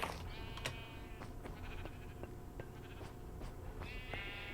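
Sheep in the Minecraft video game bleat in a couple of short, wavering cries, one early and one near the end. Soft clicks and keyboard tapping continue underneath.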